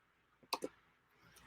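Two or three quick, close keystrokes on a computer keyboard sound as crisp clicks in an otherwise quiet room.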